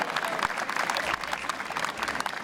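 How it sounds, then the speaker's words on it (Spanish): Audience applause at a secondary school anniversary ceremony in Barranco, Peru, honoring a graduate of the class of 2012: steady dense clapping filling the hall, with faint crowd murmur beneath. "Fuertes los aplausos para este joven de la promoción 2012"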